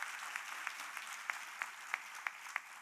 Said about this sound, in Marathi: एकदा सगळ्यांनी जोरदार त्याच्यासाठी टाळ्या वाजवा